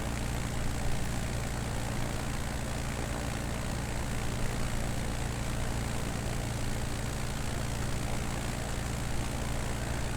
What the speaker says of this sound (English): The plane that I am flying is a Savage Cub